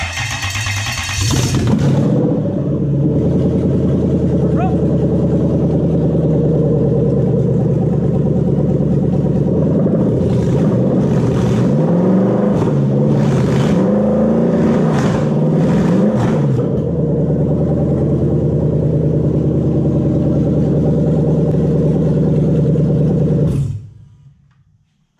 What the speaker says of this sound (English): so now that it runs on that one, we show that the engine is running